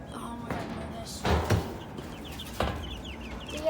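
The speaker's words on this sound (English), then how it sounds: "Yeah, there's some chicks there." Chicks and chickens cluck softly in a shed, with a few louder thumps and bangs breaking in near the middle and toward the end.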